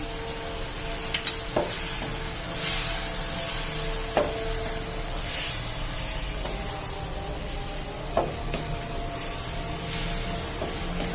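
Keema with three chopped tomatoes is stirred in a pan with a continuous close sizzle, and occasional sharp knocks of the spoon against the pan cut through at irregular intervals. No one talks.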